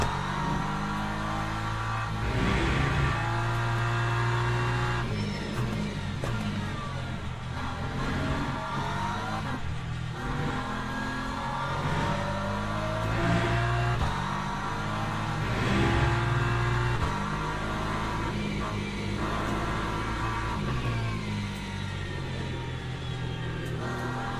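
Race car engines roar continuously in the Le Mans Ultimate sim racing game, a dense layered drone of revving and gear-shift pitch sweeps from several cars, with a Mercedes and an LMP3 in the pack, loud and steady throughout.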